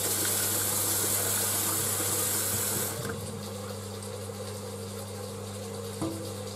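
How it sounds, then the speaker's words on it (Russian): An electric water pump runs with a loud rushing whir over a steady hum, then cuts off about halfway, leaving a quieter drone. "Насос выключился, опять накачал воду."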